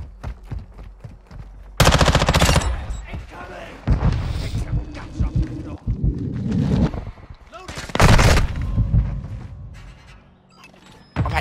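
Bursts of MPX submachine-gun fire in Modern Warfare 2 multiplayer, loud rapid rattling strings with a long burst near the start and another later, mixed with game impacts and someone talking between shots.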